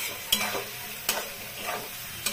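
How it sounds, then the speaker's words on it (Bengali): Spice paste for a Bengali bacha fish curry being stir-fried in a pan with potatoes and pointed gourd: a soft continuous sizzle broken by a few sharp scraping strokes of the spatula, fairly quiet, with no talking. "মশলাটা কষাচ্ছি, দেখুন অনেকটা কষে গেছে।"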